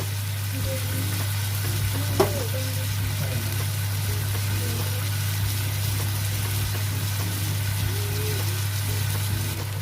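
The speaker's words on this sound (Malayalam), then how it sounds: "ഇപ്പൊ ഇത് ഫ്രൈ ആയിട്ടുണ്ട്" Salmon pieces fry in a pan with a soft, even sizzle that runs throughout, fairly faint beneath a constant low electrical hum, with an occasional small tap.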